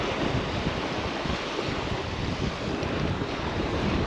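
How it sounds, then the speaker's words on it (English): A westerly side wind blows across Talacre Beach in North Wales during sea fishing, a constant loud rumbling roar of wind buffeting the microphone, with surf mixed into the broadband noise. "That side wind bowing the line quite a bit."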